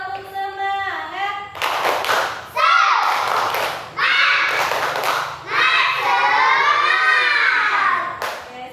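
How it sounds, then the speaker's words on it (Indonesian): Schoolchildren in a classroom perform the rhythmic 'tepuk semangat' clap, with bursts of patterned hand claps mixed with loud group chanting and shouting of young voices. "Kalau semangat coba tepuk semangat."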